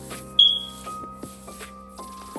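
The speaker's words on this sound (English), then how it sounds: "I know y'all just heard my smoke detector" A home smoke detector gives one short, sharp high-pitched chirp near the start. It rises above a quiet room with faint shuffling and light background noise.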